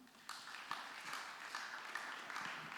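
Faint, distant applause from a congregation in church during a sermon, a steady wash of clapping with a few sharper claps, quiet throughout.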